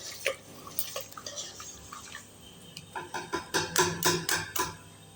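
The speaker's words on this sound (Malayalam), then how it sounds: "എന്നിട്ട് അതിലേക്ക് വീണ്ടും 1 ഗ്ലാസ് വെള്ളം ഒഴിക്കുക" A glass of water is poured into a wheat flour mixture for Kozhikode black halwa, heard as close splashing that builds into a rapid run of louder, rhythmic sloshing pulses near the end.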